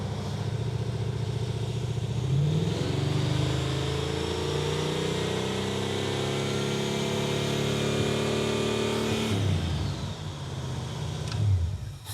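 A Camaro V8 at part throttle gives a steady, loud, close engine drone. The pitch rises twice, and a brief rev comes near the end.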